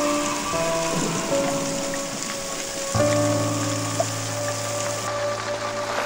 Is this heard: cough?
no